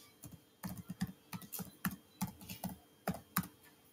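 Rapid typing on a computer keyboard, entering text into the backdrop of an MIT Scratch project, with a steady run of close, soft key clicks and no talking.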